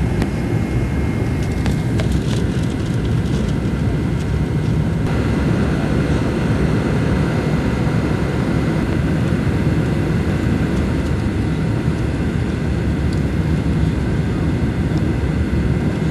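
A passenger airplane landing at Pisa, heard from inside the cabin as a loud, steady engine roar that fills the whole stretch without a break.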